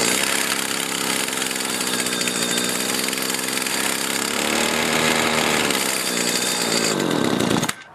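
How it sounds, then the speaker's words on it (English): With the choke on, a grass trimmer's small two-stroke engine runs roughly and loudly at close range after restarting, its buzzing rattle sputtering for several seconds before it abruptly dies. "Now I'll put the choke on, it's going to start up again."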